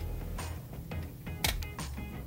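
Motex E101 handheld label maker giving a soft, light click, a few faint mechanical ticks over low background hum, with one brighter snap partway through.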